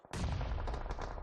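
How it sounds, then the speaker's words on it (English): A burst of rapid gunfire in a battle royale game, loud and close, one dense volley lasting about a second with no talk. "They can hear the gunshots."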